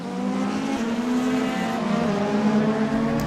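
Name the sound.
Mercedes and BMW race cars battling through the corkscrew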